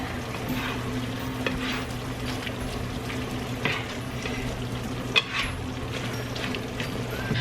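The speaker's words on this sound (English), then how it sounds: "now I'm just gonna mix all of that in" Ground beef and vegetables for Sloppy Joes stirred in a thick sauce, a steady bubbling sizzle with soft scraping strokes and one sharp clink, close and even throughout without speech.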